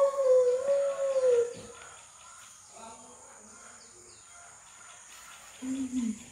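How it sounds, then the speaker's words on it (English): Dogs on a turkey farm in Ghana let out a drawn-out howl, then fall quiet while crickets and insects buzz faintly, before a second short howl near the end. "Tell those dogs to be quiet, damn it."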